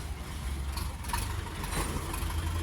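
A Dongfeng 404 small tractor with a KM engine runs steadily nearby, a continuous low rumbling idle without talk.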